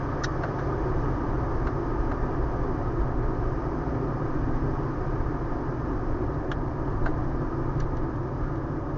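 A manual car fitted with a new FRZR exhaust drives along with a steady, loud engine drone and low rumble that holds even throughout, with no clear break for a gear change.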